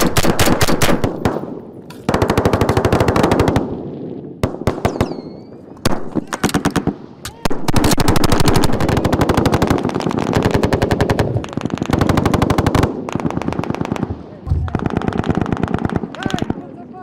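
Rapid bursts of heavy automatic gunfire, attributed to an A-10 Warthog attack aircraft, come loud and close in repeated long volleys with short gaps between them, and voices speak over and between the bursts.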